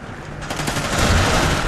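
Automatic gunfire in Call of Duty Ghosts on the Prison map, a rapid burst of shots that starts quietly and grows louder and denser, with lag-plagued play and no voice in the clip.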